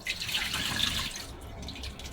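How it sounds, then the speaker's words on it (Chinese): Water pours out of a bowl of soaked pork ribs in a kitchen, a short continuous splashing gush that is close and fairly loud, with no talk over it. "把水倒出"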